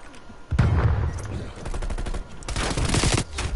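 Rapid automatic gunfire in Call of Duty: Cold War, loud close bursts of shots rattling in quick succession, with a short lull between volleys before another sustained burst.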